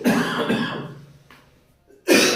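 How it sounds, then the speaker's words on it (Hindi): Two harsh coughs from a person with a cold, one at the start and another at the end, separated by a short quiet gap, close and fairly loud. "सर्दी की वजह से खांसी आ रही है"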